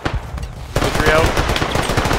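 An M2 heavy machine gun fires in a military video game, loud and close, with rapid shots running together in a near-continuous rattle that swells slightly after a brief lull.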